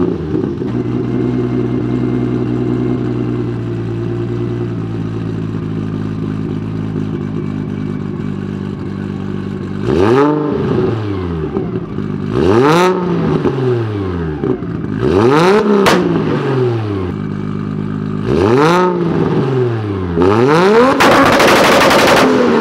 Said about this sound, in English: once you go to a single turbo and you put a proper 3-inch or 4-inch exhaust on this car, it just sounds amazing